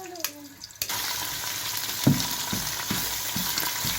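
Garlic and ginger paste hits a hot pan for beef paya, a sudden burst into a steady loud sizzle, with a few soft utensil taps and stirring scrapes close by, no talking.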